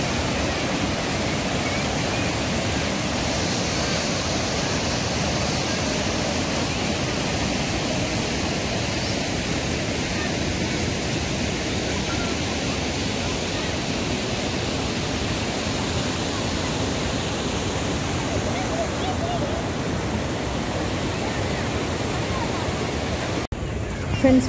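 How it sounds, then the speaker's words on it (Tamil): Water flows steadily past a low-budget picnic spot in Erode, a continuous broadband rush that holds fairly loud and unbroken from start to finish with no voices over it. "இந்த தண்ணி போகிற சத்தத்தில் இந்த வியூ என்ஜாய் பண்ணுறதுக்கு சூப்பராக இருக்குது."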